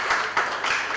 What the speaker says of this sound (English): Can we clap again for Madam Hakim?